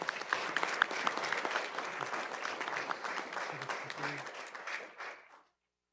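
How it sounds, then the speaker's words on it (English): An audience at a school board meeting claps steadily for about five seconds, a dense, even round of applause in a large room that tapers off and stops abruptly. "Give him another round of applause, please."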